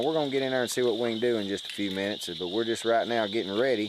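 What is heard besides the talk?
frogs calling at a pond at night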